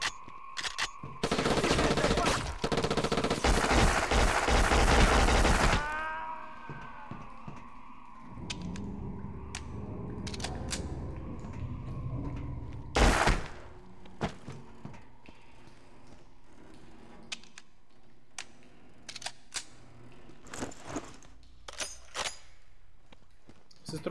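Loud bursts of automatic gunfire from the PS2 shooter Black fill the opening seconds, followed by scattered single shots, thuds and a brief sharp blast over a quieter game background.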